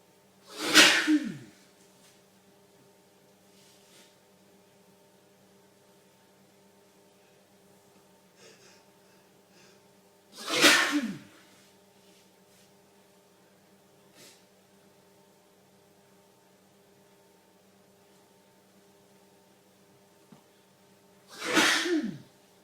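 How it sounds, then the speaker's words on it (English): A man sneezes violently in a fit, three loud explosive sneezes spaced roughly ten seconds apart, each sharp burst standing alone over a quiet background hum. "This is a sneezing explosion."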